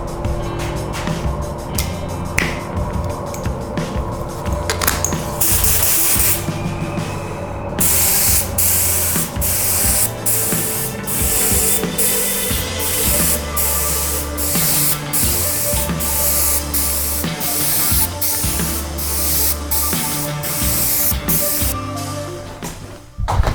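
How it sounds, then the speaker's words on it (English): Loud, continuous spray hiss from a spray gun painting a welding helmet in a paint booth, broken into rapid repeated pulses of spraying over a steady mechanical hum. "let's spray paint the helmet."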